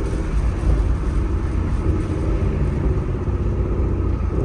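A supercharged Ford Shelby GT500 is on the move, its engine giving a deep, continuous, loud rumble with a steady low drone and slight surges, heard up close inside the car.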